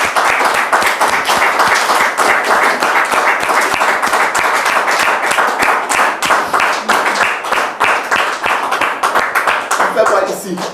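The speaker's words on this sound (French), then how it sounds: "Public, merci de recevoir notre frère Maxime sous vos applaudissements" A studio audience claps loudly and steadily, with sharp individual hand claps clearly audible in a sustained round, joined by some voices near the end.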